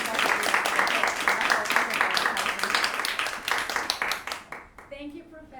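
Audience applause at a classical music masterclass, a room of hands clapping in a brisk, distinct patter that thins out and stops after about five seconds, leaving a voice behind.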